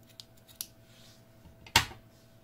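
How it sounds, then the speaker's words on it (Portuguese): Scissors snipping yarn thread while an amigurumi bunny is finished, a couple of light clicks and then one sharp, close cut, with no talking. "Vamos cortar aqui o nosso fio."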